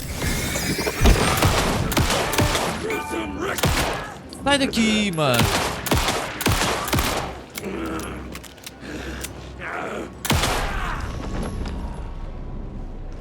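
Rapid gunfire in the horror video game Alan Wake II, several bursts of sharp shots spread through the fight, loud and near, mixed with game effects while a player talks over them.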